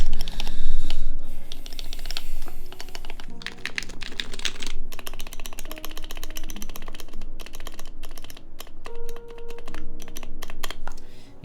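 Rapid, uneven keystrokes on a Norbauer Heavy Grail mechanical keyboard with a good spacebar and poor stabilizers, close and loud, clattering steadily for the whole stretch with no talk.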